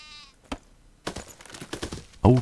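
Sheep bleating in the video game Craft the World, a short harmonic bleat near the start and another loud, close bleat at the very end, with scattered clicks and game sounds between.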